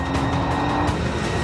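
BMW M135 engine accelerating while overtaking a VW Golf GTI: a continuous broadband engine roar with road noise, steady and fairly loud for a brief moment.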